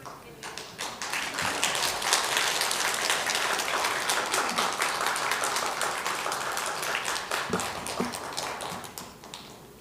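A church congregation at a Christmas service applauds after a carol played on traditional Korean instruments, steady full clapping from many hands filling the room, sustained for about ten seconds with a few louder individual claps.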